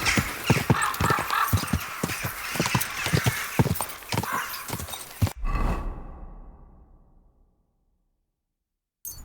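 Rapid video game horse hoofbeats clip-clop in a quick rhythm, with a horse's whinny, then a sudden cut to a fading rumble and near silence.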